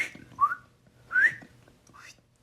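A person whistles three short rising notes, quiet and close, with soft breathy pauses between them.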